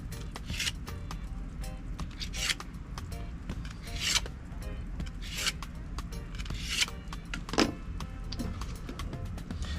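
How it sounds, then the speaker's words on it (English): A knife is sharpened for filleting flounder, with repeated rasping strokes against a sharpener in an irregular rhythm, close and fairly quiet, with occasional clinks. "Sharpen the knife up a little bit more."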